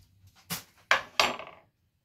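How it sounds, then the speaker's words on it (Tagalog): Peeled avocado is being mashed in a bowl with onion, tomato and lemon. Three sharp, clattering knocks of a utensil against the dish come in quick succession, then the sound falls to quiet. "Dudurugin natin tong avocado."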